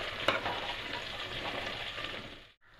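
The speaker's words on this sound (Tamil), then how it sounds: "வெஜிடபிள்ஸ் பச்சை ஸ்மெல் போகிற வரைக்கும் வதக்கிக்கலாம்." Potato, carrot and beans sauté in a pan with a continuous close sizzle and light stirring scrapes, one brief knock near the start, then the sound cuts out abruptly at the end.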